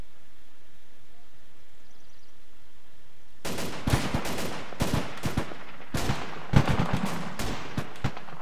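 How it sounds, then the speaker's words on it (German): Gunfire in the video game Arma 2, sudden bursts of rapid shots in irregular clusters after a few quiet seconds, fairly loud and close with crackling reports and no talk. "warum höre ich denn eigentlich immer Schüsse auf dich?"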